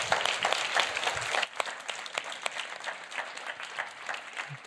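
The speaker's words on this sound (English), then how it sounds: "Big applause for Mark" An art museum conference audience applauds after a talk, with steady dense clapping that thins slightly after the first second and a half, continuing with scattered claps to the end.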